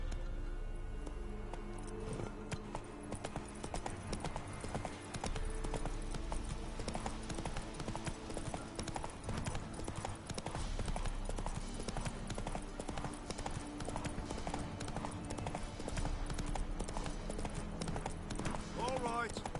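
In The Witcher 3 video game, a horse's hooves drum in a rapid, rhythmic gallop throughout, loud and close, with spoken dialogue and game sounds layered over them.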